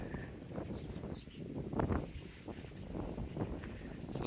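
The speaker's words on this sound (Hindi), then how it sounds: "कितनी तेज़ हवा चल रही है" Strong wind buffets the microphone in a steady, heavy rumble that swells and eases slightly, with no voices, at a river confluence on the road from Thimphu to Punakha, Bhutan.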